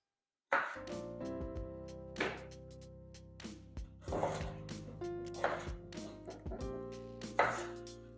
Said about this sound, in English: So I'm going to just, quarter these potatoes and add that to the mix.